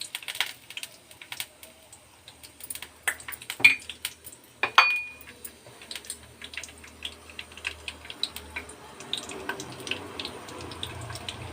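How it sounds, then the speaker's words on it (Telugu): Tempering spices land in hot oil and crackle with scattered sharp pops and spits. Two louder bursts come early on, then quick light popping continues close by. "పోపు దినుసులు వేసుకుందాం"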